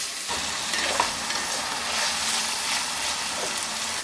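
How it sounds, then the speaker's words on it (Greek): Fresh spring onion and garlic sauté in a hot pan, giving a dense, continuous sizzle with faint stirring movements throughout, close and even in level, no voices. "Θα προσθέσουμε το κρεμμυδάκι το φρέσκο και το σκόρδο. Θα τα αφήσουμε λιγάκι να μαραθούν"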